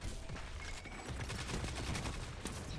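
Bursts of rapid gunfire in Destiny 2 crackle continuously, dense and sharp, like an automatic weapon firing, with no voices.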